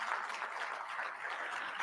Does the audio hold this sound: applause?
yes